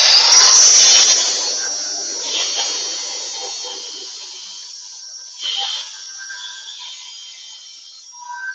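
An angle grinder whines loudly on a leaf vac/mulcher during mechanic's repair work, a steady high-pitched grind that fades and swells, with a brief surge midway before tapering off.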